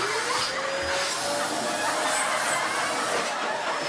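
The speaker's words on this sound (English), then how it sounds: "A vacuum." A vacuum cleaner whirs continuously with a loud, steady hiss and a faint high whine running through it, without pause.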